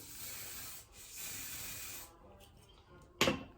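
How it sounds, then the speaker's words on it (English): A hair product is sprayed onto hair in a long steady hiss that stops after about two seconds, followed by a short sharp rustle close to the microphone. "let me spray a little bit of this"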